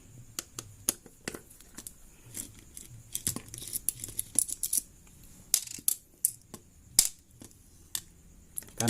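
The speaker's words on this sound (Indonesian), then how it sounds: "Oke, baut yang kedua sudah dibuka. Kita lanjut lagi baut yang ketiga." Small metallic clicks and ticks from working bolts loose on an electric fan motor come in irregular bursts, close and fairly faint, with no talking.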